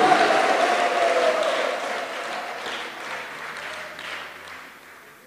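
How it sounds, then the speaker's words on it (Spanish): A church congregation applauds during worship, a broad sustained wash of clapping and crowd noise that slowly fades over several seconds before breaking off. "Un aplauso que llegue al cielo"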